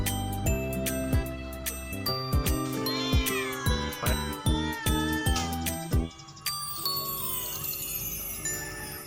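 Several cats meow eagerly and repeatedly while waiting for a salted grilled frog, overlapping insistent mews in uneven bursts, close and loud, with a faint jingle and no talking.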